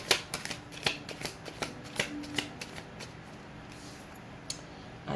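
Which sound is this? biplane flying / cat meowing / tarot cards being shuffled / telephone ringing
tarot cards being shuffled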